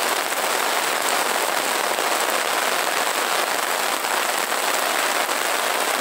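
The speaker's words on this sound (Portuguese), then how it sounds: "Chuvinha aqui em Sobral," Light rain in Sobral, Ceará, near the Acaraú river, heard as a dense, steady hiss of drops pattering on surfaces, fairly loud and continuous with no voices.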